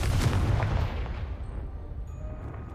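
Confringo fire spell blast in the Hogwarts Legacy video game, a loud booming explosion with a heavy low rumble that fades slowly into a lingering rumbling tail.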